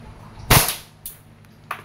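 KJWorks KP-06 Hi-Capa gas airsoft pistol firing a single loud, close, sharp pop, followed by two fainter clicks or echoes within about a second, with no voices.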